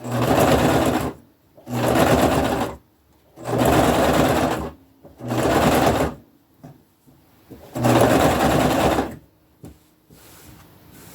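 A sewing machine stitches an upcycled braided rug in five long runs of rapid mechanical whirring, each lasting about a second and a half, separated by short pauses with faint handling clicks. The machine sounds loud and close.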